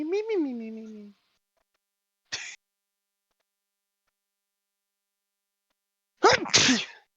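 A single sharp sneeze follows a brief sung or hummed voice and a short silence, near and clear, ending with a quick second burst of breathy voice.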